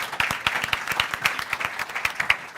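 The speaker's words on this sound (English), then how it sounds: "Please give a big applause to our panelists." Lively applause from a modest crowd for panelists at a conference side event, individual claps distinct and rhythmic, steady and close for a few seconds.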